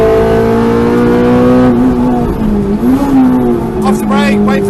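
A K-swapped Renault Clio race car engine at full throttle, loud and close, its pitch holding high and then climbing again as the car accelerates, with a voice talking over it throughout.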